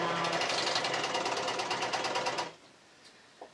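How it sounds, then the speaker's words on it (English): A serger stitches around the hems of a T-shirt hoodie, a loud steady rapid mechanical whirr running for about two and a half seconds, then stopping abruptly into near silence with a faint click near the end. "I'm literally going to sew around all the hems"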